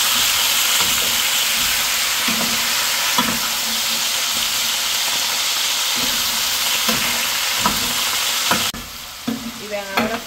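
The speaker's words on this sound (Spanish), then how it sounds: "Vamos a poner todas las verduritas, la papa, el chile, la zanahoria. Lo mezclamos bien." Potato, chile and carrot stirred into a pot with chicken for a stew, a loud continuous sizzle broken by rhythmic scraping strokes of the spoon, then the sizzle drops away as stirring slows.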